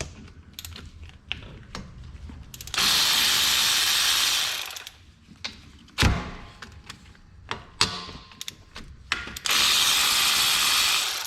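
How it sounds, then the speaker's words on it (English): A hand ratchet undoing the two 14mm front brake caliper bolts on a Mazda 3: two long runs of rapid, close clicking separated by clunks, taps and tool handling, loud and free of talk. "we can go ahead and remove our caliper by removing the 2 14mm bolts"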